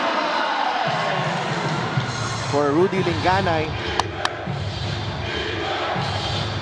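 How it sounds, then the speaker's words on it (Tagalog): Crowd shouting and cheering at a Batangas City versus GenSan MPBL 2023 playoff basketball game, a broad arena roar under a commentator's voice, with a few sharp whistle-like tones. "First basket pa lang at sigaw talaga ang crowd dito sa Batangas."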